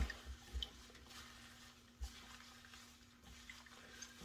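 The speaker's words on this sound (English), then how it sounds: "So literally just rinsing them off, making sure that you're getting all of that, all of the petals getting some water on them." Tap water running steadily over fresh rose petals being rinsed by hand for rose water, a soft continuous splashing wash with a few faint knocks, close and fairly quiet.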